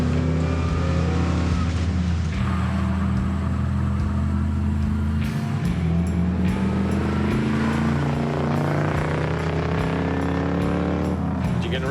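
A Can-Am series racing car with a 283 crank revs its engine hard, a loud, steady throaty roar with rising and falling pitch and periodic bursts, close by and continuous throughout.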